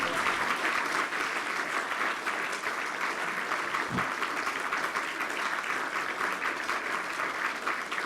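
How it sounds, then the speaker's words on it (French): Sustained audience applause, dense and steady clapping from a large crowd, continuing without pause throughout. "Vos applaudissements pour Jean-Louis Etienne."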